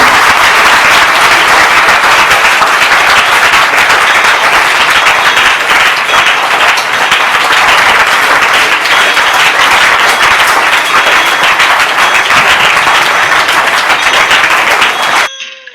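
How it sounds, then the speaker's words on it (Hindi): Sustained, dense applause from a school programme audience, loud and steady throughout as many hands clap together in welcome, cutting off abruptly at the end. "आप लोग ताली बजा करके स्वागत करेंगे।"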